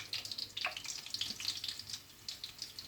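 Quiet sizzling and crackling of sausages frying in a pan, with soft irregular spits and pops close by.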